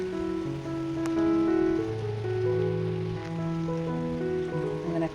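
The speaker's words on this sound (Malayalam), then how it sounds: "പുറത്തൊക്കെ നല്ല കാറ്റും മഴയൊക്കെ ഉണ്ട്" Heavy rain with wind outside on a rainy morning, a steady dense hiss of falling water that runs through the whole stretch, with a faint tonal hum underneath.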